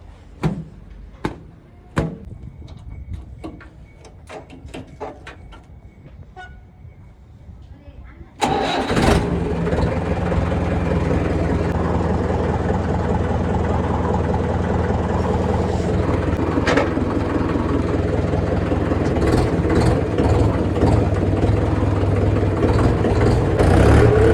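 A tractor engine starts partway through after some clicks and knocks, then runs with a loud, steady low rumble for the rest of the time, while people talk under it.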